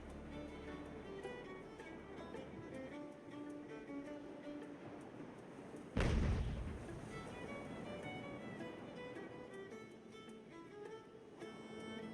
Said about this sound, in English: it's almost like the cannon fire made the boat twist